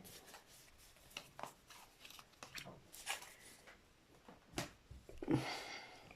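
Tarot cards are drawn from a deck and shuffled, producing soft, close papery rubs, flicks and slides in irregular bursts, quiet and without voices.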